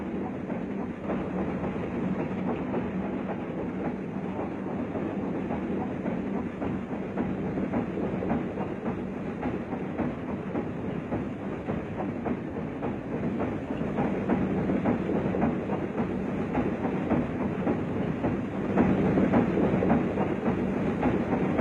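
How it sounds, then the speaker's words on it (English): A 1970s DD-52 steam train runs on an Indonesian railway line, its continuous rumble and rolling clatter holding steady and growing slightly louder near the end, with no voices. "the mammoth DD-52 arrived at the wayside station of LERA'S"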